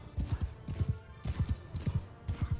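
Rapid clip-clop of horse hooves galloping across the ground in the medieval combat game Bannerlord, close and steady in repeated bursts, with a brief whinny and no talk.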